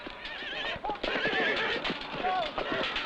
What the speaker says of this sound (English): Count Frederick von Lederer, has trained the horses to maneuver exactly with men in heavy armor.